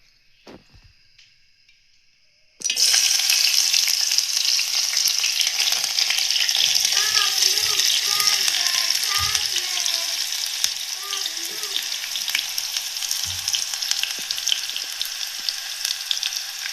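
Onions dropped into hot oil for an egg curry burst into a loud, steady sizzle after a quiet start, frying continuously up close with occasional stirring clinks.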